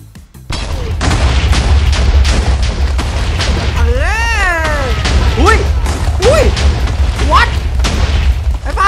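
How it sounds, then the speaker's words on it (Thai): Explosions in the Minecraft video game go off as repeated loud booms, while excited voices talk and cry out over them with rising and falling yelps. "พวกมันระเบิดไปแล้วเว้ย"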